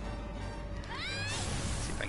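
A cat in the video game Gravity Rush gives a single short, rising-and-falling meow, heard over a steady game background.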